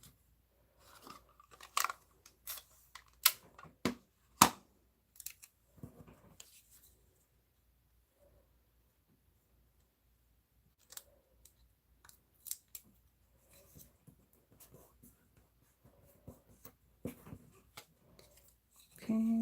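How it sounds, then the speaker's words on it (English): Snips trimming paper or card during a stamping craft project, giving scattered short crisp cuts in quick bursts with quiet gaps between, close and fairly soft. "I'm going to get my snips. And I'm going to trim that."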